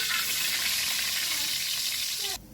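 A milkfish tail frying in hot oil for sinigang, giving a steady, loud sizzle that runs throughout and cuts off abruptly near the end.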